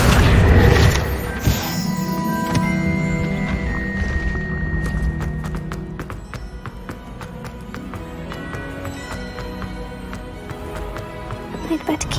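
A Bombarda spell explodes in the Hogwarts Legacy video game with a loud, booming crash at the start, then fades into a tonal, musical game soundtrack.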